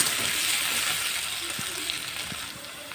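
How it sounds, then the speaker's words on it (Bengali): Potatoes fry in oil with dried chilli, whole cumin and bay leaf, a steady hiss of sizzling that fades slightly toward the end, with a few soft stirring knocks. "আলুটা ভাজা হচ্ছে"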